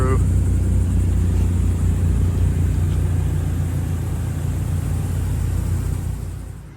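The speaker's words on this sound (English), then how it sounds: "Check out the twin turbo C6." A twin-turbo C6 Corvette rolls past at a Florida car show, its engine a steady, loud low rumble that holds throughout before fading slightly at the end, with crowd noise and talk mixed underneath.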